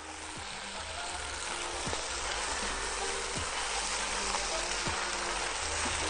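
Chicken and mushrooms sautéing in a pan give a loud, steady hiss and sizzle, with a few soft knocks from stirring now and then.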